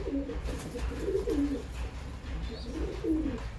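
Soft, repeated pigeon chick coos rise and fall over a low background hum, several calls spread through the moment.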